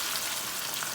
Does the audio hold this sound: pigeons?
no